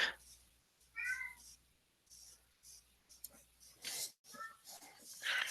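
Muffled meows from a cat shut outside a door, two distinct cries a few seconds apart, distant and moderately loud over quiet room noise and soft clicks.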